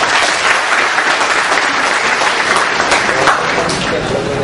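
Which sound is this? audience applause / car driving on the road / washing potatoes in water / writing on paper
audience applause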